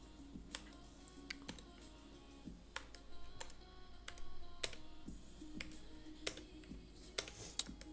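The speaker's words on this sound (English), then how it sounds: "I will click Bijoy Classic and try to type." Light computer keyboard typing with irregular soft key clicks in short bursts, quiet and close, over a low steady hum in the room.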